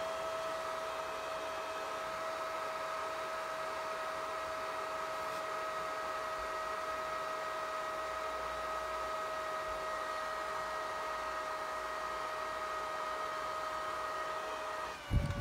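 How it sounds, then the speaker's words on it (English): A small handheld electric makeup fan drying watercolour paint on paper gives a steady, close whirring hum with a high motor whine, unchanging for the whole stretch before a brief clatter as it stops. "I'm gonna use my hand fan"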